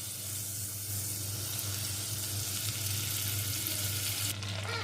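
Butter melts in a pan for a simple cheese sauce, giving a steady, even sizzle that holds for the whole stretch with no talking.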